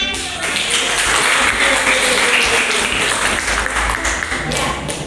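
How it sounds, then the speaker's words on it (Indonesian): Classroom applause from a group of students, a dense steady clatter of clapping that fills the whole stretch at close range, with voices mixed in underneath. "Tepuk tangan."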